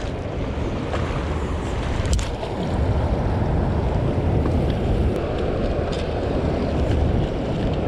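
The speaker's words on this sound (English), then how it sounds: "The wind is actually blowing towards the dam." Wind buffets a fishing boat out on a lake near a dam while striper fishing, a loud, constant roaring rush with faint lapping water underneath and no voices.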